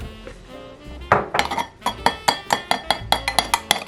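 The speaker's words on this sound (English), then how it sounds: "So I just want to mix it until it's nice and smooth." A utensil clinks rhythmically against a bowl while almond flour pancake batter with a little baking soda is mixed until smooth: quiet at first, then a steady run of quick, close, bright taps, with no talking.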